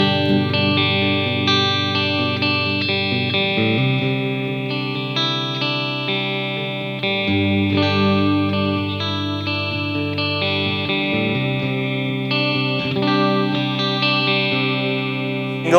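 Electric guitar on a PRS SE Custom 24 Quilt Top with the pickups set to humbucker and single coil, playing sustained chords and melodic lines with a distorted, effected tone, loud and steady with no talk.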